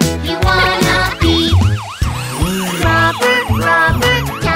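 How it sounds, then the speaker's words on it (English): Wailing siren sound effect in a children's song, rising and falling sweeps repeating rapidly over loud music and sung vocals. "Sirens on, here we go."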